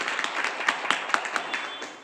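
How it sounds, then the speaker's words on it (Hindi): An audience at an RCM meeting in Noida Bhangel breaks into applause, a brisk, even flurry of many hands clapping at moderate volume, with no talk over it. "सर प्लीज एक बार जोरदार तालियां बजा दीजिए"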